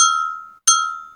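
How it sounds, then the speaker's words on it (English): Bowl struck twice, each hit giving a bright clinking ring that decays smoothly, the second strike following after a short gap, loud and close. "That's the sound of a bowl"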